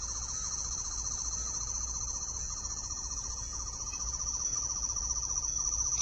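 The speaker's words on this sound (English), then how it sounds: "but the light does fade with the sound. Kind of a blastery sort of sound." A toy 11th Doctor sonic screwdriver gives off a steady, shrill electronic whine with a faint pulsing buzz beneath it, sustained and close for the whole stretch, with no talking.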